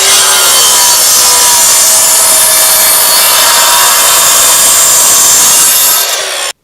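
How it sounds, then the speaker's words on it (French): A radial arm saw cuts through a wooden decking board for a terrace on a steel frame, one loud continuous rasping cut of about six seconds that stops abruptly, with no talking. "on va les couper à la scie radiale"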